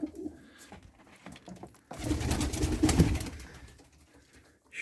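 Pigeons coo in a loft, low rounded calls rising and falling, with a louder, denser burst of cooing in the middle of the stretch against a quiet indoor background.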